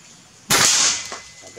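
A single sharp shot from an FX Crown air rifle with a WTJ barrel, fired at a needle target, cracks loudly up close and then trails off in a brief hissy tail.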